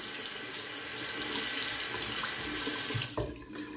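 A razor blade is rinsed under a running tap, with a steady close splash of water filling the sink that continues throughout, briefly interrupted by a few clunks near the end.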